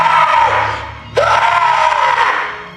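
A man screams and wails hoarsely in a film scene, a loud sustained cry likened to a walrus that breaks off and then resumes with a sudden sharp onset.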